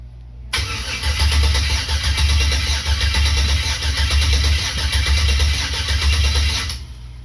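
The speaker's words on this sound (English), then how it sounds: "now I'm just jumping the starter off of the battery" Starter motor cranking a turbo LS-swapped S10 engine, a loud, steady, rhythmic grinding churn that runs for about six seconds without catching, then cuts off abruptly.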